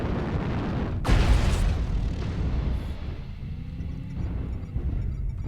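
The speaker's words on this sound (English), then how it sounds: "Artillery strike online" Artillery strike explosions in the MechWarrior Online video game: one heavy blast bursts out about a second in, then a long rolling rumble and scattered smaller booms that continue under a steady loud din of battle.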